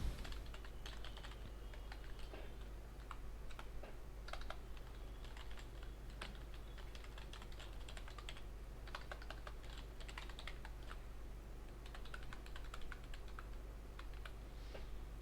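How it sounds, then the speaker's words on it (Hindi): Rapid, steady keystrokes on a computer keyboard while entering data, close and fairly quiet over a constant low electrical hum, with no voices. "एक डेटा मैं यहाँ पे एंटर कर रहा हूँ"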